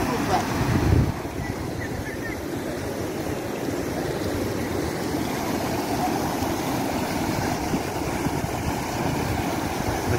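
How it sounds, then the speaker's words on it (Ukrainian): A metre-high waterfall on the Opir river in Skole, Ukraine, giving a continuous, even rush of falling water that stays steady and fairly close throughout. "Метровий водоспад на річці Опір в місті Сколе."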